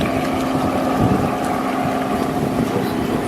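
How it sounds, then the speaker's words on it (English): Motorboats and yachts head out of the harbour at the Cannes Yachting Festival in France, a loud continuous engine drone and wash mixed with wind buffeting the microphone. "look at all the boats coming out"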